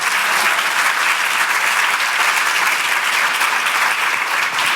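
Sustained, dense applause from a large audience welcoming a speaker at a talk, steady and loud throughout with no pauses and no voices standing out.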